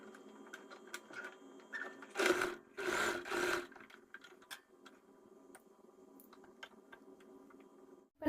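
Sewing machine stitching fabric for a rose puff sleeve blouse, brief bursts of rapid mechanical stitching separated by quiet pauses, with faint clicks and handling of cloth around them.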